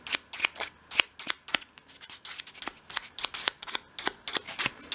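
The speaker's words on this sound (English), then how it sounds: "just sweep the sandpaper over the top" Fine grade sandpaper swept over the cut end of a cocktail stick for a 1/12 scale dolls house bedside cabinet, giving quick rhythmic scratchy rasps, close and fairly loud, repeating about three times a second.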